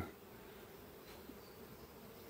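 Honeybees busy at the entrance of a young colony hive started in May, bringing in pollen: a faint, steady, diffuse buzzing hum from many insects, continuous and fairly distant, with no voices.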